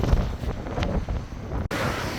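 Strong, very cold wind buffets the microphone in loud, continuous low roaring gusts beside a river in Budapest or Bratislava, with a brief sharp dropout near the end.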